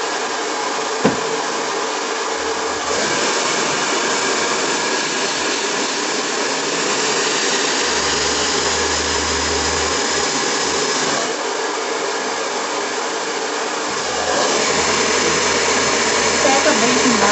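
A hair dryer blows on damp hair in a long, loud, continuous rush of air, its pitch and strength shifting slightly as it moves and changes setting.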